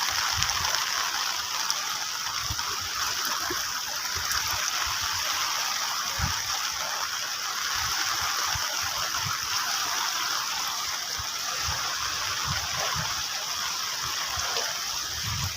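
Rainwater pours across and floods a road in heavy Konkan rain, a continuous, even rushing and gushing that stays loud and unbroken from start to finish, with no voices.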